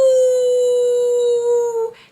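A single sustained wolf howl imitated by a person's voice, one loud close tone held evenly for nearly two seconds before dropping off abruptly, heard alone.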